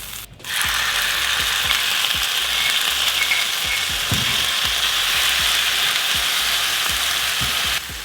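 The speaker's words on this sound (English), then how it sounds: "let this saute just a little bit longer to soften up these onions" Butter and onions sauté in a pan for lunch, giving a steady, loud sizzle that runs throughout, broken by frequent scraping and clicking stirs close by.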